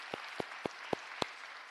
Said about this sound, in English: So please give Sonny a big round of applause and thank you for all your service.